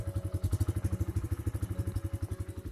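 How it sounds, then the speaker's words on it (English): A Bajaj Freedom 125 CNG motorcycle engine idles with a steady, rapid low thumping pulse, fairly quiet and close. "This is what it sounds like in idle."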